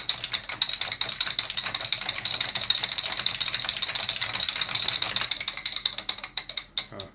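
A push-button rotor mechanism on an Action Man toy helicopter, with a spring wearing out, ratchets in a rapid run of close, crisp plastic clicks, steady at first and then slowing and thinning out before stopping.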